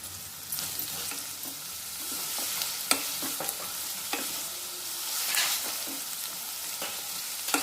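Chopped onions sizzle and crackle in a pan with whole spices like cinnamon and cardamom for a gongura chicken curry, with scrapes and clinks of a stirring spoon at irregular intervals over a steady fry.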